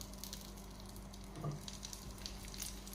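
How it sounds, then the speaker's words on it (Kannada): Mackerel wrapped in banana leaf fries in hot oil in a pan, giving a soft, steady sizzle with a brief louder crackle in the middle, quiet and close. "ಈಗ ನಾವು ಬಾಳೆ ಎಲೆಯಲ್ಲಿ ಕಟ್ಟಿಟ್ಟಂಥ ಮೀನನ್ನು ಇದರಲ್ಲಿ ಇಟ್ಕೊಂಡು ಫ್ರೈ ಮಾಡ್ಕೊಳ್ಳೋಣ."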